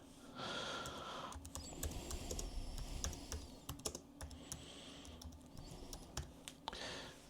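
Fingers typing on a computer keyboard, a fast, steady run of crisp, close key clicks lasting several seconds with short pauses, with soft breathing in the background.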